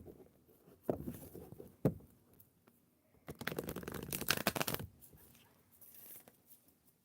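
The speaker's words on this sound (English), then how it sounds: "I always like to shuffle my cards up" Soft papery riffling and shuffling of tarot cards, with a few sharp taps and a louder burst of card flicking in the middle, close and fairly quiet.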